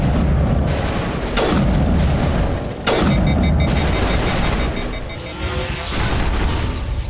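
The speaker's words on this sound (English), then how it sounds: "careful with those guys, because, they can kind of, like, explode" Enemies exploding in the Mass Effect video game: deep booming blasts, two prominent and close, over a dense rumbling din of battle and gunfire.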